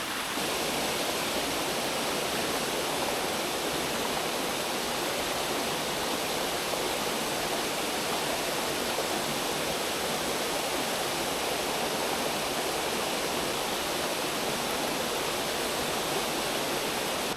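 A constant, loud roar of rushing water, steady and unbroken like a nearby waterfall.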